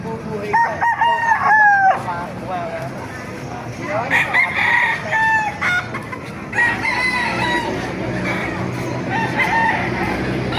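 A blue gamefowl rooster crows several times in a farm yard, loud harmonic calls rising and falling, with clucking and other fowl in the background and someone speaking at times.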